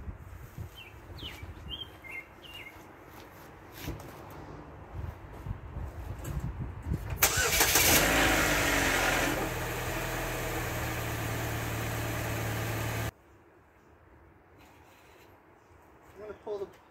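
A Chevy Cobalt engine cranks and catches, then settles into a steady idle for several seconds after an oil change. It cuts off abruptly, with faint birdsong and background noise before the start.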